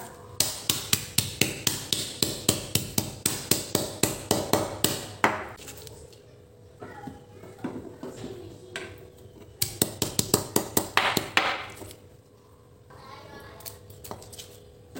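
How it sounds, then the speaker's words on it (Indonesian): Spices pounded into a paste with a pestle: rapid, regular, sharp close thuds in two long bursts, separated by a quieter stretch with light scraping and a voice speaking. "Nah kita haluskan bumbunya ya"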